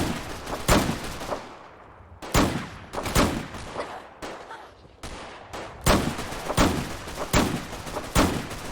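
Repeated gunfire from a rifle with unlimited ammo in Fallout 4, a zombie mod, with sharp shots landing in clusters and irregular bursts over about nine seconds, loud and close.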